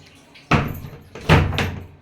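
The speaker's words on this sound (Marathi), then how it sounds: "बाथरूमचा दरवाजा लावून घेतला," A bathroom door in a home is pulled shut, giving a thud near the half-second mark, followed by a second louder bang and rattle, heard close with no talking.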